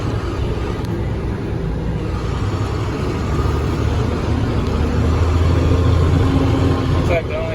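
A 2004 International truck drives along with a steady low engine rumble and road noise up close inside the cab, while someone talks over it.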